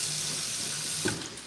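A kitchen tap runs steadily into a sink as food for chicken adobo is rinsed under cool water, a close, even hiss of flowing water with a small clunk near the end and no voices.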